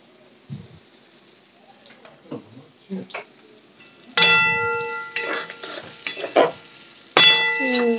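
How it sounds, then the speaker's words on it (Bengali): Chopped green chillies stirred into chow mein in a pan, with metal spatula scrapes and clinks plus soft sizzling, louder and ringing in the second half. "কাঁচা লঙ্কা কুচি দিয়ে নাড়িয়ে নিলাম।"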